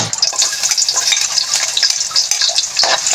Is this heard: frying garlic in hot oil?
yes